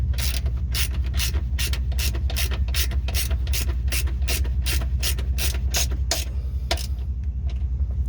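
A hand ratchet tightening a bolt on a car torque mount, rapid even clicks repeating steadily for several seconds close up, then slowing and stopping near the end, no talk.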